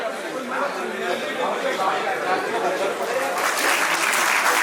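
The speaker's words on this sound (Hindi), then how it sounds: "जोरदार तालियों से।" Audience applause at a book launch event, a steady wash of clapping from a seated crowd that swells louder toward the end, with voices mixed in underneath.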